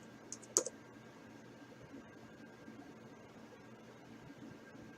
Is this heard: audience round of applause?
no